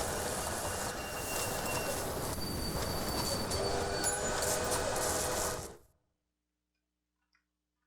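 Trains rolling through a Railway Empire game scene near Los Angeles, a steady dense rumble with faint ticking and wheel squeal that runs continuously and then cuts to silence near the end.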